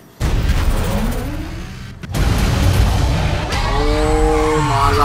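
Nissan 370Z racing in the video game Need for Speed Undercover, a loud, sustained engine roar with tire noise, a brief cut, then rising and falling revs near the end.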